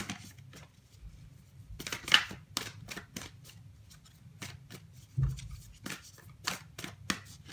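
Moonology oracle cards being shuffled: soft papery riffles and taps in short, uneven bursts, close and fairly quiet in a still room.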